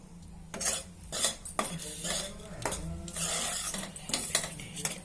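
Wheat flour with nuts roasting in a pan, stirred with a metal spoon that scrapes and clinks in repeated strokes over a soft sizzle.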